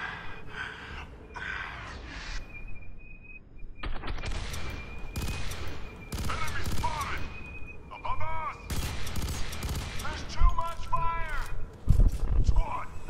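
Rapid gunfire bursts and single shots crack loudly in Fear 3 during a tower fight, with breathing and in-game vocal sounds between the volleys.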